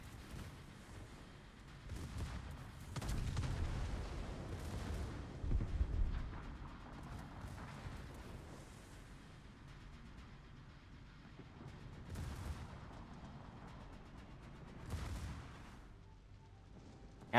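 Battleship North Carolina's main guns firing in a World of Warships tournament match, deep booming salvos rolling out in several heavy clusters over a low rumbling background, with faint talk.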